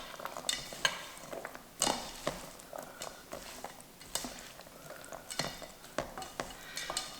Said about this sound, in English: we'll give that a toss so that we make sure that all those seasonings get to coat